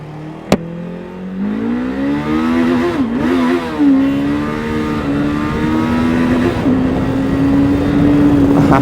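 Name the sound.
Kove 525x motorcycle engine revving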